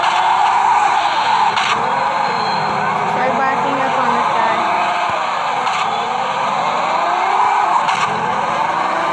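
Tire skidding and squealing from a vehicle in the video game Construction Crew 3D, a continuous loud screech with wavering pitch, heard alone throughout.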